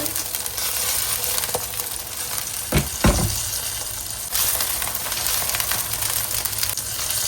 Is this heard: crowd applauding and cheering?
no